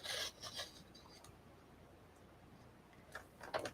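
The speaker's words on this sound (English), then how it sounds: "I'm going to cut down to the 5 inch mark." Cardstock sliced on a paper trimmer for a flip flap shutter card: two short rasping cuts near the start, a quiet stretch, then another brisk scraping pass at the end, close and fairly soft.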